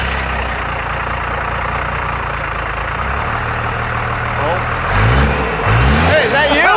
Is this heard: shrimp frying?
no